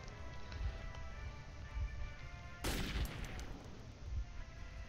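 An AK rifle fires in the post-apocalyptic shooter Metro 2033, with a sharp burst standing out against faint, muffled thumps and a low background hum.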